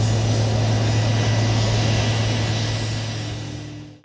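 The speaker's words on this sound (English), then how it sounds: "We started up the jet and it was time to take it up in the air." An Eclipse 500 very light jet roars with a steady, loud engine whine and broadband rush, heard continuously up close before tapering slightly at the end.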